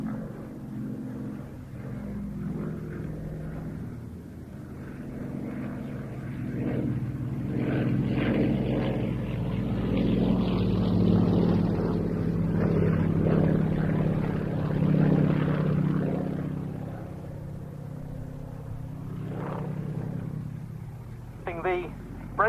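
A Yak-52 aerobatic aircraft with an M14P nine-cylinder radial engine flies at the IWM Duxford flying day, its propeller drone swelling, peaking and slowly fading under a commentator's voice.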